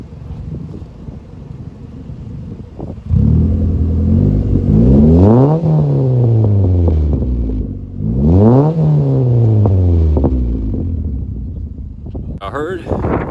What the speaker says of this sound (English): And now I'm gonna give y'all some revs.